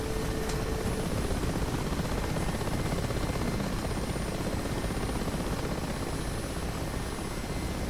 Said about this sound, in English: I love how you can just let a helicopter fall out of the sky.